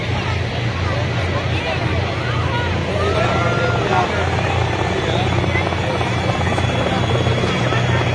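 Indian Air Force Mi-17 helicopters pass overhead at a Republic Day parade, a loud, steady rotor thrum lasting throughout over a low crowd murmur.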